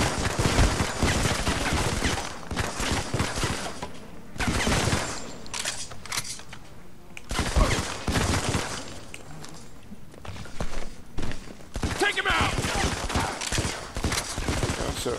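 Gunfire from the first-person shooter Modern Combat 5 on an nVidia SHIELD console, with repeated bursts of automatic fire and sharp shots in clusters separated by brief lulls, loud and close.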